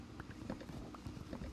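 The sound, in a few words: horse hooves in a video game, Minecraft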